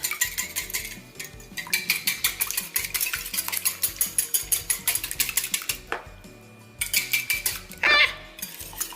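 An egg beaten in a bowl for keto almond-flour crackers, with a utensil clattering rapidly against the dish in steady bursts, close and fairly loud, pausing briefly before a final flurry of scraping.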